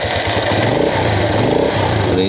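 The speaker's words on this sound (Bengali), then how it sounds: "চলেন বাইকে স্টার্ট করে দেখাই দিই" A modified Road Master 80cc motorcycle engine runs close and loud with a rapid pulsing putter and slight surges in revs, heard on its own.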